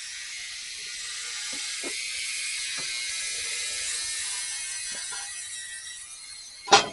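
A Harbor Freight compactor runs with a steady, hissing mechanical whir throughout, broken by faint knocks and a sharp loud clack near the end.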